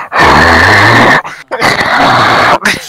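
A dog growls low and continuously at close range, with a short break and then a second sustained growl, loud and alone without talk.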